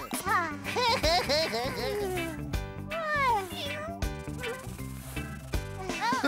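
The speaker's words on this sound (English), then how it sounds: "Oh, it's only the little black cat." A cartoon cat gives several meows and drawn-out mews, close and clear, mixed with talk and a light musical background.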